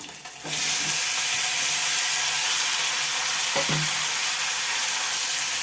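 Onions and tomatoes fry hard in a pan of oil for a Telugu gongura curry, a loud, steady sizzle that kicks in after a brief quiet start, with a couple of stirring scrapes near the end.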